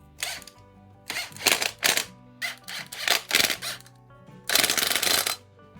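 An impact gun tightens a suspension bolt on a Citroën Picasso, firing in several short bursts of loud, buzzy rattling hammering separated by brief pauses, the final burst longest and heaviest.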